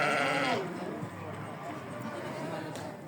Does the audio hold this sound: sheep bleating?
yes